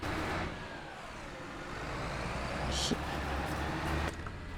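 Tractor engine in Farming Simulator 25, a steady mid-pitched rumble that swells slightly as it works, with a brief clank and a short hiss of air, a voice talking faintly over it.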